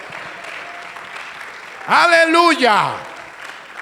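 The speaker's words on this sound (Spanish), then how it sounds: "Démosle un aplauso a ese Cristo maravilloso" A church congregation claps steadily at a service, a soft, spread-out patter that continues while a voice calls out loudly over it.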